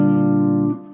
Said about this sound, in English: if you take a major chord, which is a 1, 3, 5, and you add a 6, you get what's called a 6th chord